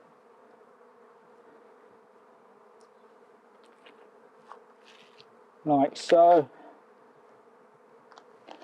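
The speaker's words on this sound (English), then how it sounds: "You've got to get used to having these bees buzzing around you." Bees drone around an opened hive as fondant is laid out for them, a faint steady hum in the background, with a brief louder close pass near the middle and a few quiet spoken words.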